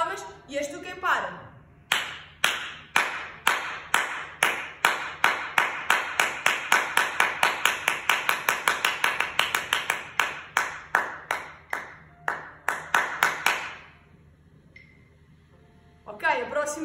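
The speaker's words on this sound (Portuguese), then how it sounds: "agora vou só bater palmas" Hand clapping during a children's gymnastics class, close and sharp, with a voice beforehand, then a steady beat that quickens toward the middle before slowing and stopping, a few claps resuming at the end.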